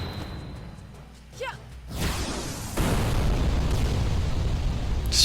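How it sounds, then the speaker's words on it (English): Booming explosions and whooshes burst out of a Final Fantasy XII quickening attack, a sweeping rush then a loud sustained roar filling the rest of the moment. "Explosions!"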